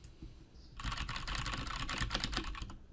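Rapid, continuous clacking of keys on an Anne Pro 2 60% mechanical Bluetooth keyboard, close and crisp, starting after a brief quiet moment and running steadily to the end.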